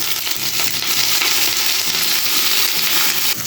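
Boiled drumstick leaves and chilies frying in a pan, a loud continuous hiss of hot oil with occasional stirring clatter, close and steady with no voices.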